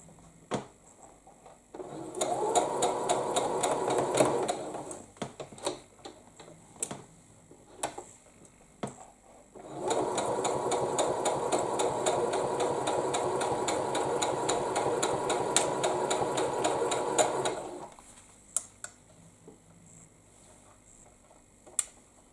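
A sewing machine stitching quilt pieces runs in two bursts of rapid stitching, a short one then a longer steady run, with small clicks and pauses between.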